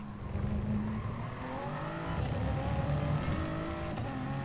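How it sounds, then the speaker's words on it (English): A Toyota race car in an online racing game takes the first chicane, its engine a steady loud drone with shifting pitch as it brakes and accelerates through the turns, heard continuously without talk. "Rear wing cam on the Toyota going through the first chicane."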